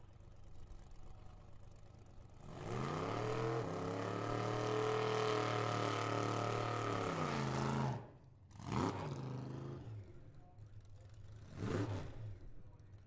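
Big-tire drag racing cars at Firebird Motorsports Park give a long, loud engine roar of about five seconds as they launch. Two shorter revving bursts follow, with no talk heard.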